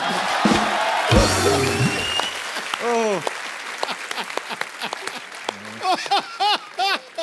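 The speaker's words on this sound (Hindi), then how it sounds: "ठोको ताली।" A burst of studio audience applause and cheering on a TV comedy show rises, then fades as voices talk and laugh over a quieter crowd.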